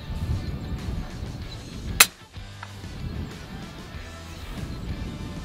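A single sharp crack of an FX Impact M3 air rifle pellet from H&N ammunition strikes quarry about 80 yards away on a hunt, a brief snap followed by quiet outdoor background.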